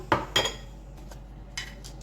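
Cooked chickpeas being spooned into a bowl: a few sharp metallic clinks of a utensil against the dish, two close together at the start and a fainter one later, with quiet pauses between.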